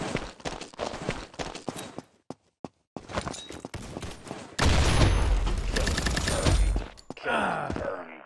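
Gunfire and sniper shots ring out in a free Call of Duty-style first-person shooter, with scattered single shots and footsteps giving way to a loud dense burst of firing, then brief quieter gaps.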